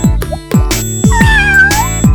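A cartoon kitten meows in a drawn-out, high call, loud and close, set against steady rhythmic thumps of background music.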